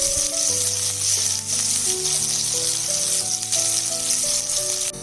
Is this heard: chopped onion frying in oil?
yes